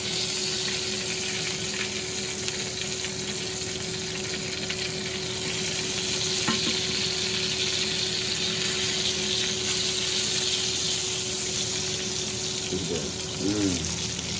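Chicken thighs frying in hot oil, a constant crackling sizzle with a low background hum, brief tonal sounds near the end.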